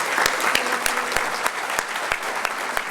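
An audience at a city club meeting claps together in a dense, continuous round of applause, with a few sharper claps standing out from the steady wash.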